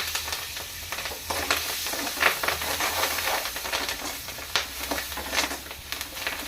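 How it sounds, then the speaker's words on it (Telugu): Loud, crackling sizzle of curry leaves hitting hot oil, a continuous hiss with sharp popping bursts throughout. "నెక్స్ట్ కరివేపాకు వేసుకుందామండి"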